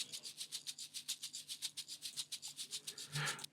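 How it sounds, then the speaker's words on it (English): Shaker loops from an Afro House sample pack play a steady, fast rhythm of bright, hissy shakes with a soft rustling texture, moderately loud and alone, with a brief thicker swish near the end. "And then next thing, we adding some shaker loops."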